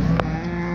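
Cattle low in a farm pen as cows and calves are gathered for sorting, with one strong moo rising early over a steady herd murmur and low rumble.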